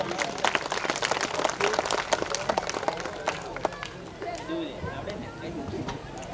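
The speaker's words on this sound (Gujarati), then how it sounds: "દીપ પ્રાગટ્યને તાળીઓ પાડીને આપણે વધાવીશું" Applause from an audience welcoming a ceremonial lamp lighting at a Rabari community school event in Kolad village, a steady patter of many hands clapping at moderate loudness with crowd murmur underneath throughout.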